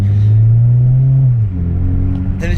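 A car engine with a CVT transmission drones loudly at steady revs, then the pitch drops and settles into a lower rumble, close by.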